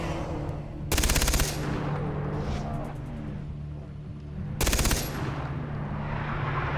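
Two short bursts of rapid automatic gunfire in Far Cry 3 while hunting a bear, loud and close, set against a steady engine-like drone.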